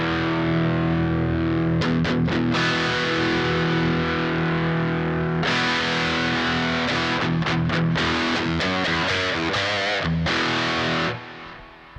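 Electric guitar played through a Boss DS-1 distortion pedal: loud, thick, sustained distorted chords, broken by quick choppy strums and brief stops, ending in a sudden cutoff.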